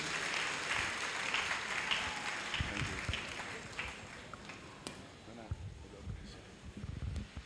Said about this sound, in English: Shall we welcome him with a clap offering, please?